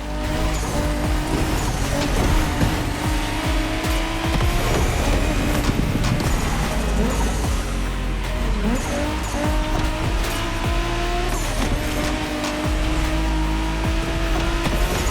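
A Toyota Supra races in The Crew Motorfest with a loud, continuous engine roar and tire squeal, joined by other cars through a Tokyo-style street race, dense and unbroken throughout.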